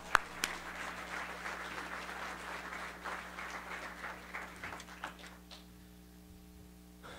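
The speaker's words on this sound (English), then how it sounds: "Give yourselves a nice round of applause." A small gathering at a lost mariners remembrance claps after singing a sea shanty, scattered applause over a low hum that thins and dies out, leaving the room quiet.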